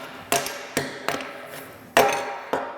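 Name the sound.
knocking cast lead hammer out of mold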